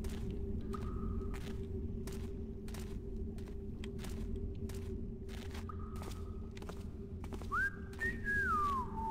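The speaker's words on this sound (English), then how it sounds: "They should have called them the off-key whistlers." Off-key whistling from downwinder creatures in a Thief fan mission game, short wavering tones repeated several times over a steady low ambient hum, with footstep-like ticks scattered throughout.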